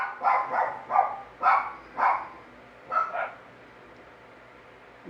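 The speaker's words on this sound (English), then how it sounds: "now the dog's barking." A dog barks about eight times in uneven bursts, some doubled, at a moderate distance with no talk over it.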